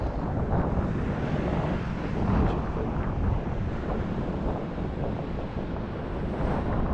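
Ocean waves wash onto a Captiva beach in a steady broad roar, mixed with wind buffeting the microphone, with no clear breaks.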